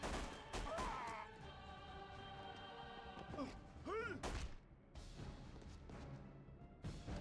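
Kalashnikov rifle gunfire in The Punisher video game, loud bursts of shots mixed with game music and effects, with a few heavy thuds and a rising whoosh partway through.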